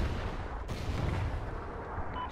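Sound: Trinity rocket strike exploding in the video game Warhawk

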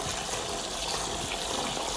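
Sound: washing rice under running tap water

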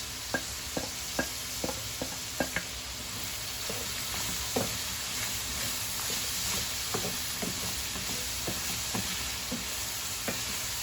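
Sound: vegetables frying in pan

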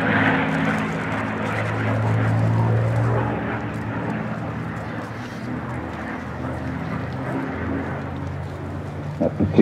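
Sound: P-51D Mustang aircraft engines taxiing at air show

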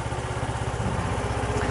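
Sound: KYMCO Racing S125 scooter engine running

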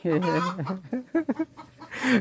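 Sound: chickens clucking

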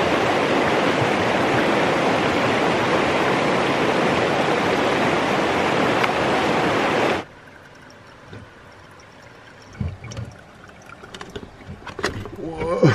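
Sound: snowmelt water running through a water filter

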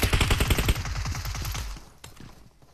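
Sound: gunfire in a video game

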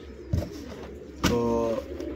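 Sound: pigeons cooing

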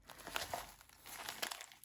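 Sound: plastic warm pack bag being handled

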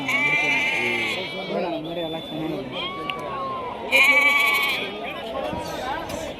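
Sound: lambs bleating at a livestock market

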